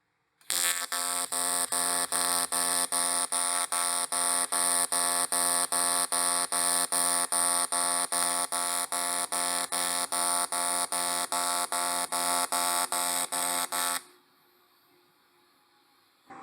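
Kemppi MasterTIG 235 AC TIG welding arc running with a mixed TIG AC setting, a loud steady buzzing hum with a fast regular pulsing beat, held for about thirteen seconds before cutting off to quiet.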